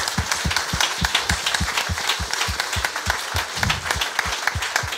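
A church congregation at a worship service applauds in steady rhythmic unison claps, loud and close, sustained throughout with no other sound on top.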